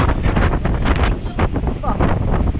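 Strong wind batters the microphone at the seashore, a loud, steady roar with gusting rumble and the wash of big waves behind it, while a voice speaks briefly.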